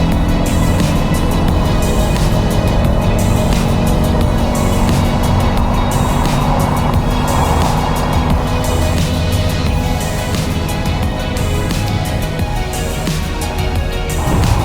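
A supercharged V8 Mercedes-AMG car cruises along with a steady, loud engine drone and road noise, sounding continuous from inside the car with no speech.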